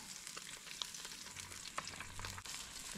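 Five small fish, already pan-fried on both sides, crackle gently as scallion, ginger and garlic hit the hot oil: a faint, soft continuous sizzle with a few light clicks, no talking.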